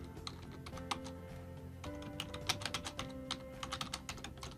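Quiet, rapid keystrokes tap out on a computer keyboard in irregular clusters, faint under a steady background hum with a few louder clicks toward the end.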